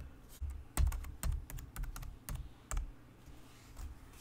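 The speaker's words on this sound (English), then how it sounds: "let me just type in your ID number" Soft, close keystrokes on a computer keyboard as an ID number is typed in during a bank account setup, about a dozen irregular taps over a few seconds, then quiet.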